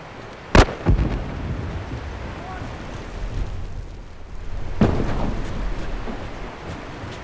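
Two sharp, loud blasts from a set bomb in The Last of Us, the first a crisp crack and the second a deeper boom that rolls into a lingering rumble.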